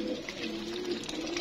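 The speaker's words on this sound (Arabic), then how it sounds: "تعالوا ناخد كده فكرة عن الحمام ونشوف بقى اخبار الحمام" Domestic pigeons in an indoor room coo with a low, steady murmur, their soft calls close and continuous.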